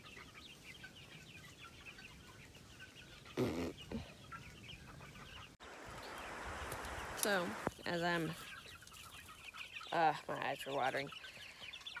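Free-range farm chickens cluck and squawk in scattered bursts close by, while someone talks over them.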